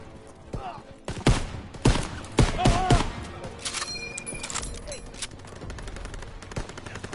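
Machine gun fire in the Call of Duty WWII video game: close, loud bursts of rapid shots crack out in quick succession over the first three seconds, then settle into scattered lighter gunfire and battlefield clatter.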